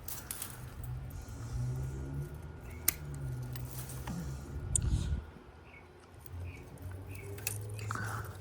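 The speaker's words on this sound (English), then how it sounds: "This is like too thick to cut. So with these shears" Garden shears cut thick plant stems in a backyard spring garden, with a few quick snips and crunching chops over low background rumble.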